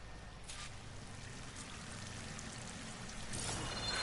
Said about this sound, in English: The waterfall must be coming from somewhere.